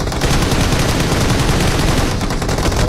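Rapid automatic gunfire in a multiplayer shooter game, dense sustained bursts fired almost continuously, loud and close with a brief dip near the end.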